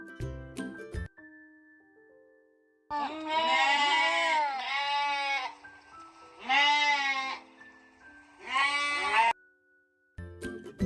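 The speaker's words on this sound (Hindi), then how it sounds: "ये है भेड़ी, जिसे हम इंग्लिश में बोलते हैं" Close, loud sheep bleats come in four wavering, quavering calls separated by short pauses, with brief quiet gaps and clicks at the start and end.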